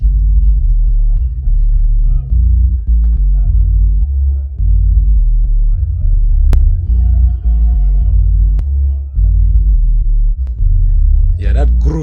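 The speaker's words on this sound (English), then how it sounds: "The bass sounded like this." A deep, steady bass line from a piano-driven beat, with sustained low notes separated by brief gaps and a faint higher flourish near the end.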